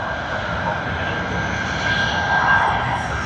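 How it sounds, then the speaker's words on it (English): Cebu Pacific airliner taxiing at Sydney Airport, its engines a loud, steady roar with a sustained whine that swells slightly toward the end, heard alone without talk. "we'll capture a bit more of this taxiing action"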